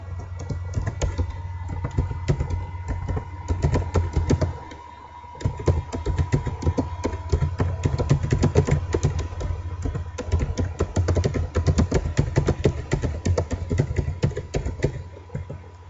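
Steady typing on a computer keyboard while writing C# code, with dense rapid key clicks and a short pause partway through, close and clear with no talk.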